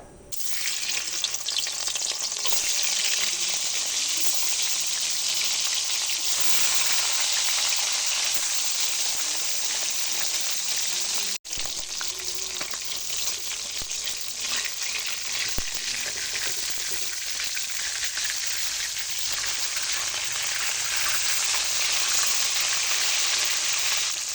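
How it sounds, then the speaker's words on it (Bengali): Rohu fish fry in hot mustard oil with a loud, dense, continuous sizzle close by, broken once by a brief dip and then carrying on with faint scrapes. "তেলটা ভালো করে গরম হয়ে গেছে এবার আমি মাছগুলো ভেজে নেবো"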